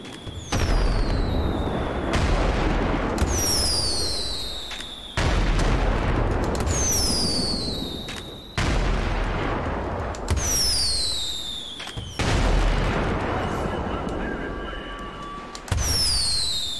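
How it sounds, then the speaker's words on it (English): Video-game fireworks in GTA 5 go off in four separate bursts, each a loud boom followed by crackling and rising whistles that fade before the next launch, with sparkling crackle near the end. "I've only got 10 fireworks left now."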